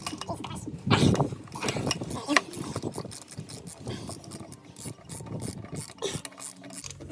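A ratchet on a 3/8 socket works an oil filter tool on a BMW K1200 engine, giving bursts of quick metallic clicking close by, with faint clinks and some low talk mixed in.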